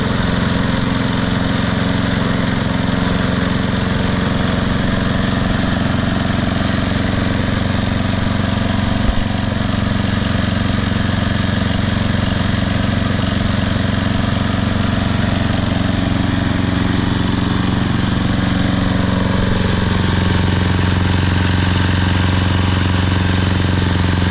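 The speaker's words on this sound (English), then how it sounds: "That doesn't prove a Briggs & Stratton engine is tough." A Briggs & Stratton engine on a rusted, worn-out lawn mower runs loud and unbroken nearby, holding a steady droning pitch from start to finish.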